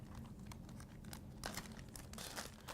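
Diapers are stuffed into a plastic bag, giving a steady run of close crinkling and rustling plastic with brief louder crunches partway through.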